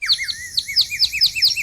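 Repeated rising whistled calls of an Asian koel in a village near Sivaganga, a steady series of clear, bright notes coming every fraction of a second, fairly close and with no voices over them.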